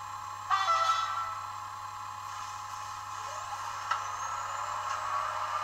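A Doloise locomotive in original condition starts off at the head of a train of about ten coaches. It gives a steady, fairly quiet engine drone with a hissing burst at the start and another short release midway.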